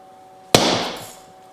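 A Schrade SCHF9 survival knife is struck once with a wooden block while batoning through dry wood, giving a single sharp, close knock that rings out and fades over about a second.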